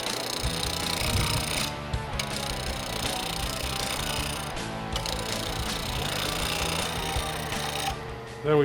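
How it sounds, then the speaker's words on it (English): A wood lathe spins a slate turkey call blank mounted on a screw chuck, giving a continuous loud whirring, rattling drone with a couple of brief dips as the cutting pauses. "Now you mount it on the lathe with just a screw chuck."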